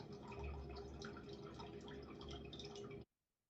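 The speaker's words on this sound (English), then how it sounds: "Kind of hear what dripping water through a bass sounds like." Water drips through a bass inside a recording studio, a steady dense patter of close drops with a low resonant body, continuing for about three seconds before stopping abruptly into silence.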